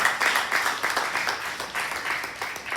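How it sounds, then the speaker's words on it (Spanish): Church congregation applauding, a fairly soft, continuous patter of many hands with slight swells, heard from a moderate distance with no speech over it. "Denle un aplauso al Rey de Gloria"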